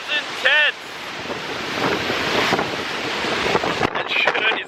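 Giant ocean waves surging and crashing on an Australian coast with strong gusting wind buffeting the microphone, a continuous loud roar of surf throughout, with brief excited voices near the start and end.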